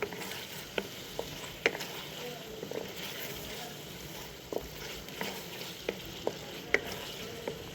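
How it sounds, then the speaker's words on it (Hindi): Masala stirred into arvi (taro) salan in a pan gives soft frying sizzle with scattered spoon scrapes and taps, quiet and close, irregular throughout. "अच्छी तरह से मिक्स करेंगे ताकि जो मसाला बना है वो इसके अंदर अच्छी तरह से जज़्ब हो जाए"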